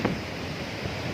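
Strong wind during Typhoon Odette roars steadily around a house whose roof is being torn off, a close, dense rush of air with no break across the short moment.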